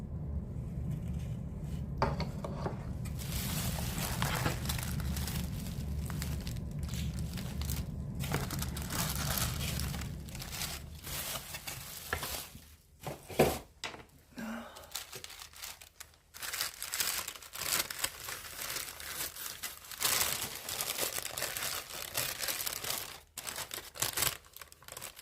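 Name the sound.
wrapping paper crinkling while being unwrapped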